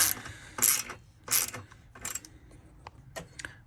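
A ratcheting wrench tightens exhaust bolts on a Honda CRF250X dirt bike fitted with a Yoshimura RS-2 muffler, giving short bursts of rapid clicking, first louder, then fainter scattered clicks, close by.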